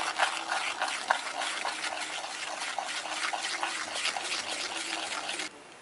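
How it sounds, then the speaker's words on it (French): Cake batter of beaten eggs, sugar and cornstarch being stirred in a bowl, a steady wet scraping and sloshing that continues evenly, then stops abruptly near the end. "Ensuite, on y ajoute la maïzena. Voilà, on mélange bien."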